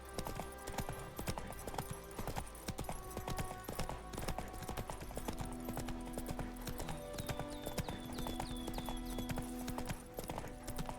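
Roach, a horse in The Witcher 3 video game, trots with a steady clip-clop of hooves that runs throughout over a dense game soundtrack and effects.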